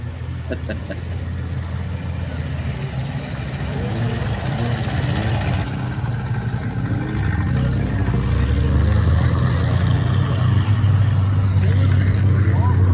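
Vintage snowmobiles, a Ford in the lead, run across frozen Fish Lake, their engines a steady droning roar that swells louder and nearer over the seconds, with voices talking over the noise.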